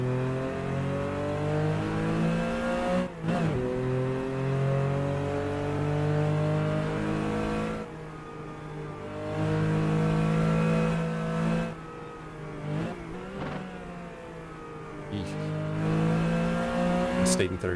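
A Porsche 914/6 race car's flat-six engine revs hard on the San Bovio Circuit, climbing in pitch and dropping sharply at several gear changes, loud and close from inside the car.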